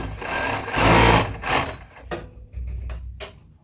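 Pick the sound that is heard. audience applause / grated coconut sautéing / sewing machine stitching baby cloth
sewing machine stitching baby cloth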